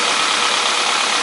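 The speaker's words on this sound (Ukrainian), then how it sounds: "Зараз двигун теплий, приблизно градусів 70-60." A warm Honda CR-V 2.0 engine with a knock idles close up, a loud steady roar of broadband mechanical noise with no pauses or voices.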